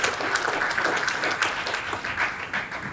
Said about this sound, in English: Can I get a round of applause for her as well?